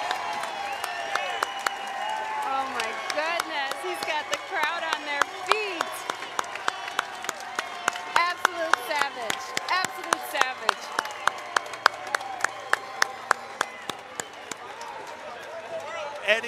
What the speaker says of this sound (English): Eddie Martinez gets a standing ovation.